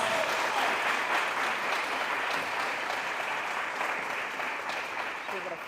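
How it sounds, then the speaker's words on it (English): Sustained applause from an audience at a women's scholarship and awards ceremony fills the room, a dense wash of clapping that slowly tapers, with some voices mixed in. "Can we give the girls a round of applause?"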